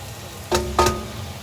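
Pork sautéing with ginger and onion for a pork curry: a steady low sizzle in the pan, broken by two short bursts of stirring or scraping, with no talk.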